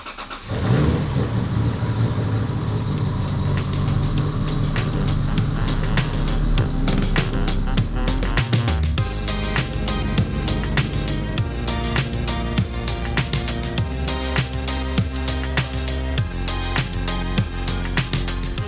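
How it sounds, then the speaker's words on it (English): A Toyota Supra engine under tuning cranks and catches, then settles into a steady, loud, close idle with some revving, running on continuously without talk. "I'm going to go ahead and start the car just to show you guys what's happening."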